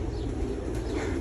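Pigeons coo steadily on a farm of native and hybrid pigeons, a low, continuous murmur of overlapping calls filling the background throughout with no talking.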